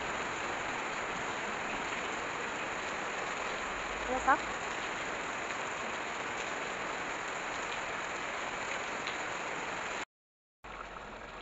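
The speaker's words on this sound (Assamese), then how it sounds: "প্ৰচণ্ড পৰিমাণে বৰষুণ দি আছে" Heavy rain pouring steadily, a dense even hiss of drops on surfaces, with a brief spoken phrase partway through.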